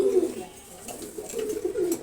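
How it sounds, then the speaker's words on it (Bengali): Pigeons of several breeds coo close by in a loft in low, throaty bursts, one call near the start and more overlapping toward the end, with faint background noise. "এখানে প্রায় সাত জাতের কবুতর রাখছি দাপড়িতে"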